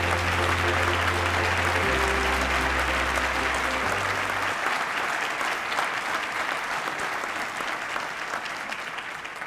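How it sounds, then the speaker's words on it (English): An audience at an awards celebration for teachers of the year breaks into sustained, dense applause that carries on steadily before slowly thinning, with some music fading out beneath it at the start. "Please give these Teachers of the Year a big round of applause."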